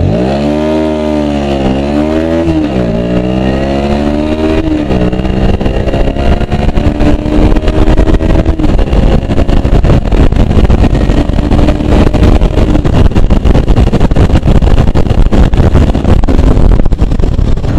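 A Bajaj Pulsar NS125 BS6 motorcycle engine revs hard from rest, pitch climbing through several quick gear shifts before settling into a loud, sustained high-speed drone.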